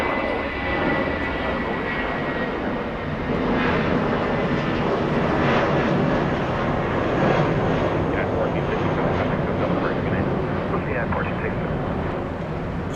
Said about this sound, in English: That's an A320-200 using 25 right for departure.